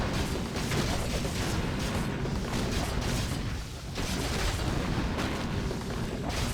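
Rifle fire in Warcraft III during a Human versus Night Elf battle, a dense, continuous crackle of shots mixed with impacts and battle noise, loud throughout with a brief lull midway.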